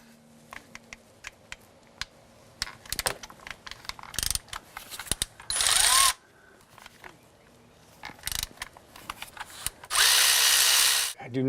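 Connecting rod bearing cap bolts are worked loose on a Mercedes S600 engine with a power tool. Scattered clicks and ratcheting knocks lead up to two loud, sustained whirring bursts, close by and with no voices.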